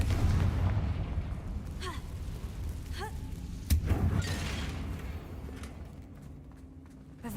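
A Confringo fire-blast spell from Hogwarts Legacy bursts in a sharp broadband boom near the middle, over a steady rumbling game soundscape with faint whooshing spell trails before it.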